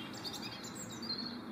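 Birds chirp and sing outdoors during a morning walk, faint, high twittering calls layered over steady wind and ambient noise.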